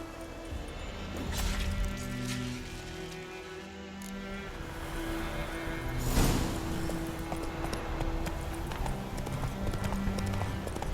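Horse hooves clip-clopping in The Witcher 3, a steady close trot of rhythmic hoofbeats with occasional snorts and game ambience.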